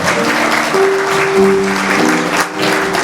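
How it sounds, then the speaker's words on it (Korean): Wedding guests applaud steadily at a wedding hall in Suwon as the parents of the couple bow, the dense clapping mixed with sustained music tones and a little background voice. "그럼 박수 부탁드리도록 하겠습니다"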